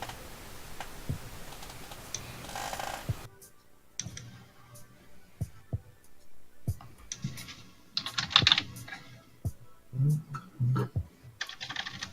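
Typing on a computer keyboard, with irregular clicks and key taps in bursts, close and fairly soft, with brief speech and background noise in places.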